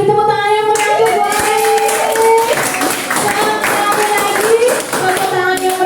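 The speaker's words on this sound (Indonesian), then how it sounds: "beri tepuk tangan yang meriah buat" Audience clapping for three teacher candidates at a school training session on positive culture, steady and fairly loud, with a speaking voice and harmonic tones running over it throughout.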